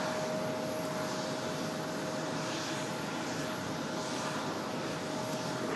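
A Delta jet airliner heads off toward LAX from Raleigh-Durham International, its engines a steady, fairly distant broadband roar that holds without a break, with no one speaking.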